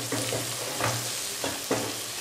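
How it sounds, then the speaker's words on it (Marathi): A spice masala with dried fish and brinjal is sautéed in a hot pan, steady sizzling broken by several rhythmic scraping stirs of a spatula, close and moderately loud, with no voices. "1-2 मिनिटांसाठी आपण हा परतवून घेणार आहोत."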